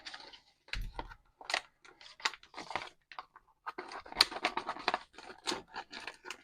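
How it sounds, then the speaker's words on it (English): Scissors snipping plastic parts free from a model car kit sprue, a quiet run of short, sharp clicks and cuts in irregular bursts with brief gaps between them. "Let's get my scissors."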